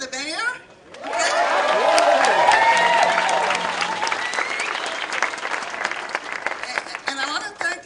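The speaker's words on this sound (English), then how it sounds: "And let's give another applause for the mayor." Warm applause and cheering from a crowd at a César Chávez Day celebration honoring the mayor, rising quickly after a brief pause and holding steady, with voices calling out amid the clapping.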